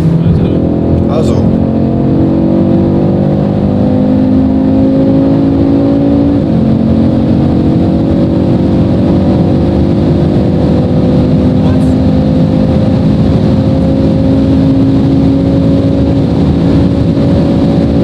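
Audi RS3 8Y pulling toward top speed in a long fourth gear; a loud, sustained engine roar climbs steadily in pitch for the whole stretch, with people talking over it inside the car.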